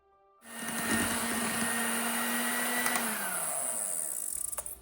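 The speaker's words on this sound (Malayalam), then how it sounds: "ഇനി ബീറ്റർ വെച്ചിട്ട് എല്ലാം കൂടി നന്നായിട്ടൊന്ന് ബീറ്റ് ചെയ്ത് മിക്സ് ചെയ്ത് കൊടുക്കുക." An electric beater whirs to life and churns mango pulp with condensed milk, a steady motor whine with a buzzing edge that holds, drops in pitch partway through, and ends in rapid stuttering pulses as it winds down.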